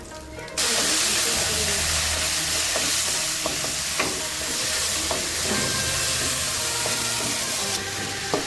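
Green chillies and leafy greens sauté in a hot pan for a Tamil thovayal, giving a steady loud sizzle with occasional stirring clicks throughout.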